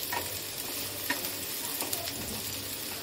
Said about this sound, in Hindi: और प्याज को मैं लाल होने तक अच्छे से फ्राई कर लूंगी।